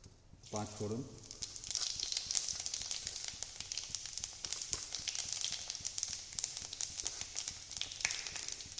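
Panch phoron spices hitting hot mustard oil in a kadai give a steady crackling sizzle with dense popping, close and fairly loud throughout, after a brief louder burst near the start.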